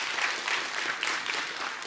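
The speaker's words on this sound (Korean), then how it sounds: "박수 한 번만 부탁드려요." An audience in a salon-management seminar applauds, a dense, even wash of many hands clapping together, steady and moderately loud throughout.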